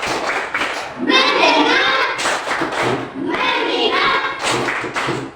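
Schoolchildren in a third-grade classroom perform a rhythmic clapping chant, two bursts of loud, close group claps with chanting voices separated by brief pauses, a teacher's voice between them.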